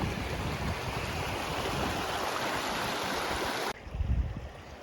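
Steady rushing creek water at Doubtful Creek on an alpine trail crossing, a continuous broadband flow close by that cuts off abruptly, leaving a quieter rumble of wind or footsteps.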